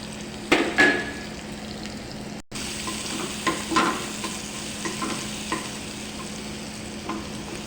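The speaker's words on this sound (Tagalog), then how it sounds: "Gisa lang tayo ng bawang guys." Garlic sautéing in olive oil in a pan for a chicken, broccoli and carrot dish, a steady close sizzle broken by stirring scrapes and clanks of a utensil against the pan.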